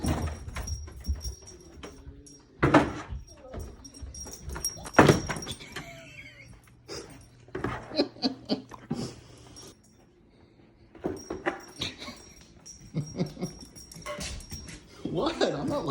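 A dog wearing a cone keeps bumping into things indoors, with scattered sharp knocks and thuds, a few dog whimpers and yips, and a person talking over much of it.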